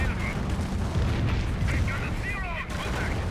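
A Calliope rocket barrage in Company of Heroes: sustained rumbling artillery with repeated booms and rocket whooshes layered together, loud and continuous, while a caster talks over it.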